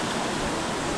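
Water rushes steadily below the Shri Loteshwar temple at Dugwe, a dense, even roar of flowing water that fills the whole moment without pause.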